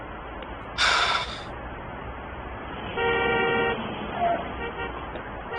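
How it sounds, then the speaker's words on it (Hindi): Car horns honk in a short burst and then a longer blare, loud and close against steady street noise, with no talking over them. "अरे यार, ये कितना हॉर्न बजाते हैं।"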